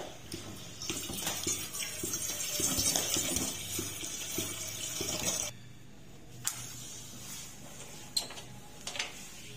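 Water runs steadily into a container for drinking water in a home kitchen, a continuous splashing fill that stops abruptly midway, followed by a few faint clicks and knocks.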